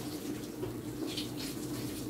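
A kitchen tap runs steadily while hands are rinsed beneath it, a soft continuous splash close by with no talk over it.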